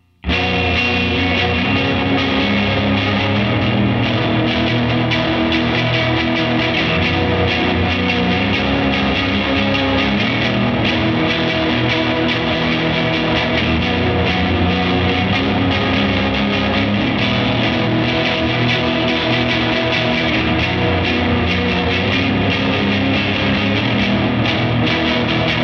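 An electric guitar plays through a Walrus Audio Melee distortion and reverb pedal on its third reverb setting, giving a loud, continuous wall of saturated, washy sustain that holds steady with no gaps.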